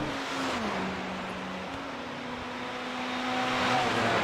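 Ferrari GTE race cars battling at Le Mans in iRacing, a steady engine whine shifting through gears under a broad hiss of road and wind noise.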